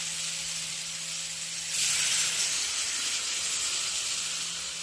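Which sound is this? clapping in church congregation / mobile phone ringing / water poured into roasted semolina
water poured into roasted semolina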